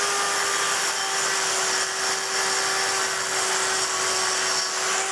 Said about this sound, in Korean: 돌을 가는 작업을 하시는 분들께서 이렇게 집진 커버에다가 청소기를 이렇게 물려서